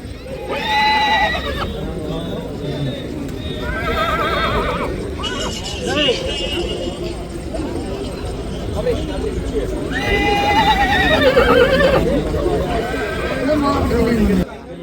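Several horses whinny loudly and repeatedly at a crowded horse market in Anthiyur, Tamil Nadu, with hooves clopping faintly as one is walked past, all under steady crowd chatter and talk nearby.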